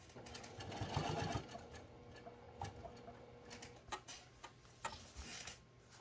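A sewing machine stitches along a seam line on a postpartum pad, its rapid mechanical ticking coming in short bursts with pauses between them, quiet and close.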